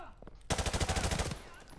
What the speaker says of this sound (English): They literally only shoot at me.